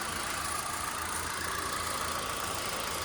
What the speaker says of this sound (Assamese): ইঞ্জিন চাওক ষ্টাৰ্টতে আছে